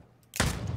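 A single sharp gunshot bursts out in the video game Bloodhunt after a brief quiet moment, followed by a loud, sustained rumbling decay.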